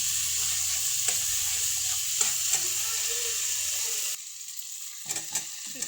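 Potatoes hit a spiced chicken curry base in a hot pan, a loud steady sizzle with a few scraping stirs, then the frying drops abruptly quieter near the end; no talk.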